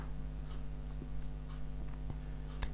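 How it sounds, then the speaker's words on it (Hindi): Writing out a math proof, a pen or marker makes faint scratchy strokes with a few soft taps against a low steady hum, quiet and close. "तो यहाँ पर लिखेंगे, इस तरह से लिखेंगे"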